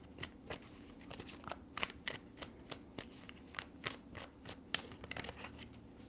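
Tarot cards being shuffled close up, a steady rhythmic series of crisp card slaps and flicks with one sharper snap near the end.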